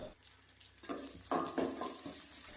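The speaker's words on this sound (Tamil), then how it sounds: "அந்த புளி தண்ணியை வந்து இதோட வந்து சேர்த்துக்கலாம்" Tamarind water pours into a fish curry in a pan, a short splashing gush that swells in two bursts over a low background, close and fairly quiet.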